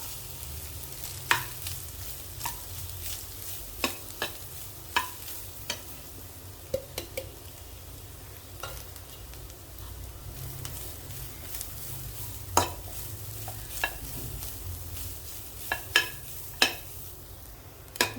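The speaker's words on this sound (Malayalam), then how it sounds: "ഇനിയിപ്പോൾ നമ്മുടെ തേങ്ങ അതിൽ തന്നെ ഇട്ടിട്ട് വറക്കാം." Coconut sizzles softly in a pan while a spatula scrapes and taps against it at irregular intervals, close up with no talking.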